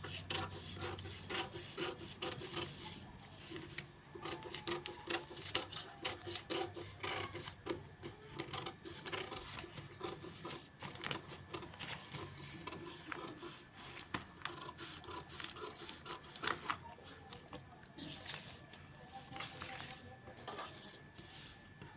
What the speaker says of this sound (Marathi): कटिंग करताना आता हा इकडचा भाग कट करायचा.